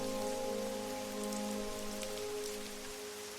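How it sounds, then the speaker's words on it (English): Heavy rain pours steadily onto pavement, a dense, even hiss that holds constant throughout with no voices. "Rain pours in silver sheets, weaving ripples through puddles on the pavement"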